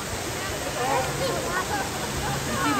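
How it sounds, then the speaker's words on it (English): Broadband rushing water noise from a waterfall at Waimea Falls, Hawaii, heard steadily from a distance throughout, with faint crowd babble and light activity mixed in. "To the waterfall"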